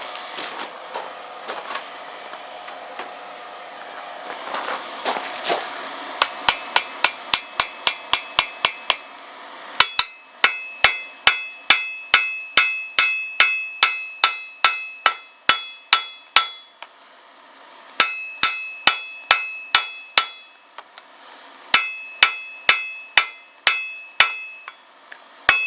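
Railroad spikes being forge welded into a tomahawk or hatchet: loud, ringing hammer blows on hot steel at an anvil, struck in steady rhythmic runs of a dozen or so with short breaks between sets.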